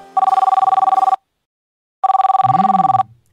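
A telephone ringing unanswered, two loud electronic trill bursts of about a second each separated by silence, with a brief low vocal sound under the second ring.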